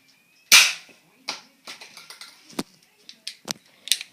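A Boomco toy pistol fires once indoors with a sharp close snap, followed by a scatter of lighter clicks and clatters over the next few seconds as a voice speaks briefly.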